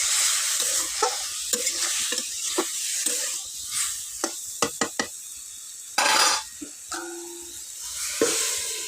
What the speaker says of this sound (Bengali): এখন আমি খুন্তি দিয়ে নেড়ে চেড়ে